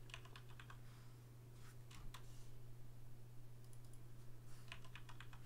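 Keyboard typing at a computer during a networking lab session, a few quick bursts of light key clicks over a steady low electrical hum, with quieter gaps between them.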